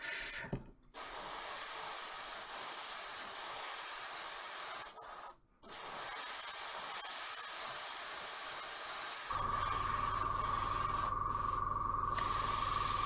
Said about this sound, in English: giving my airbrush a good old work in today